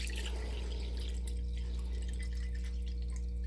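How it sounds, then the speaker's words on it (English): Distilled water poured into a New York Saks Fifth Avenue snow globe during a water change, a faint continuous trickle and splash over a steady low hum. "start off with some distilled water"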